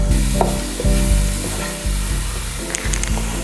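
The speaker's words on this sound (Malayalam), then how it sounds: "എണ്ണയൊന്ന് ചൂടായ ശേഷം നമുക്കതിലേക്ക് എടുത്തു വെച്ചിരിക്കുന്ന ജിഞ്ചർ ഗാർലിക് പേസ്റ്റ് ചേർത്ത് കൊടുക്കാം." Ginger garlic paste hits hot coconut oil for a roasted pearlspot fish dish, a loud close crackle and sizzle with repeated stirring strokes and a low rhythmic rumble beneath.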